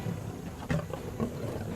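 A lion growls among a clan of hyenas in the wild, giving a few low rumbling roars and grunts close by over steady background noise.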